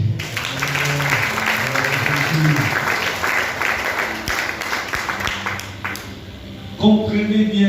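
A church congregation applauds and cheers to acclaim God during a deliverance service, a sustained crowd clapping with voices mixed in, swelling again near the end.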